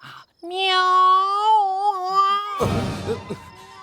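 A long, drawn-out cat meow wavers loudly up close, then gives way to a rougher burst of noise that may be a muffled voice.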